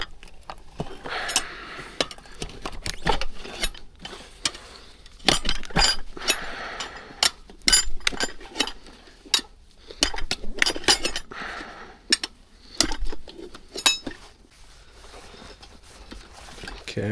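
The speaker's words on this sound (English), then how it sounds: "You can use the tire spoon to hit it in" Metal tire spoons clink and tap against a small dirt bike wheel rim as a tire is levered on, sharp irregular metallic ticks close by, with bursts of handling noise and no talk.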